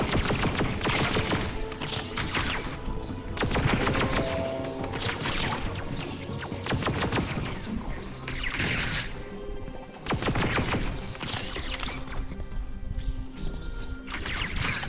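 Blaster gunfire aimed at the player in a Star Wars VR game, heard as dense bursts of shots and impacts that come and go across a busy battle mix, loud and sustained with no voices.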